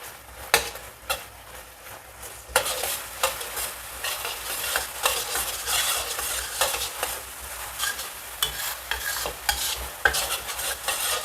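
Anchovies fry in a small amount of oil while being stirred, giving a steady close sizzle broken by frequent scraping strokes of a utensil against the pan.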